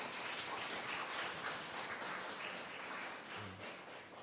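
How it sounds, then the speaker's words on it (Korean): A church congregation at a Sunday service in Darmstadt claps in welcome: a soft, steady wash of many hands patting continuously for several seconds, distant and fairly faint. "우리 옆에 있는 분들 박수로 환영했으면 좋겠습니다"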